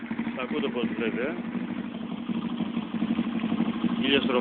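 A 62cc moped engine idles at about 1000 rpm with a steady, even drone throughout, with talking over it.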